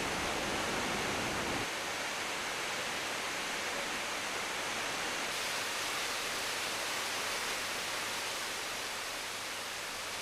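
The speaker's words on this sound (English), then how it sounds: "But further down from this point, the waterfall becomes impressive and noisy." A waterfall in Sapa, Vietnam roars as a steady, broadband wash of falling water, constant and fairly faint, with no voices and no change in intensity throughout.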